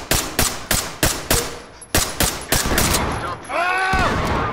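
Gunshots in the tactical shooter video game Ready or Not, with a series of sharp, evenly spaced single shots ringing close and loud, followed by a short rapid volley and a brief voice.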